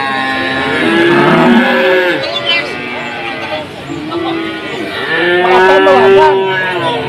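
Cattle at a cattle market, including a Limousin cross, moo repeatedly in long, loud, drawn-out calls close by, one after another.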